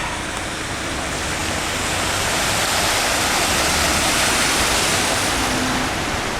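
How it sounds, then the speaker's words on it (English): Floodwater surges up out of drains in the Morrison's car park in Bacup, a loud, steady rushing roar like a torrent, close and continuous with no voices over it. "we can see there the water is just flooding. It's coming up out the drains."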